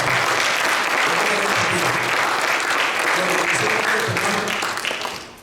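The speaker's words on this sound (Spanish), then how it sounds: "Cuando dice gloria a Dios, denle un aplauso al Espíritu Santo." Congregation applauding during a Spanish-language church service, a dense steady wash of clapping that holds for several seconds before tapering off at the end.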